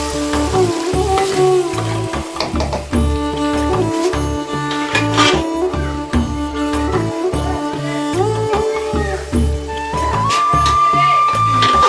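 Spice tempering (tadka) for mustard greens saag sizzles loudly and steadily in hot oil for about twelve seconds, with a tonal backing running beneath the frying.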